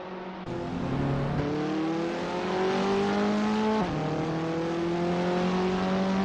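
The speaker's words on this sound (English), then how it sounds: "I think these cars sound okay." Race cars in the Assetto Corsa racing game, several engines droning and revving together in steady rising pitches, one shifting gear near the end, continuous and fairly loud with no talk over them.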